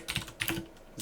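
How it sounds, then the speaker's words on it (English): Rapid computer keyboard typing, a quick irregular run of close key clicks with a couple of brief pauses, heard alone without talk. "I feel like your keyboard is louder than mine"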